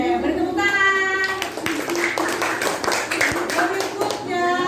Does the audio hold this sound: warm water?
no